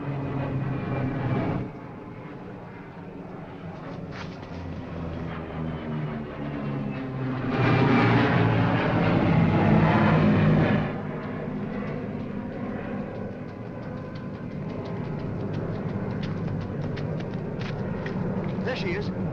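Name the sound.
propeller pickup plane flying overhead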